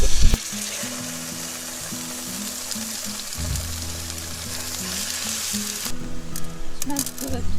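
Steak fries loudly in a pan with fat, giving a steady broadband sizzle throughout, then crackling harder and spitting near the end, heard alone with no talk.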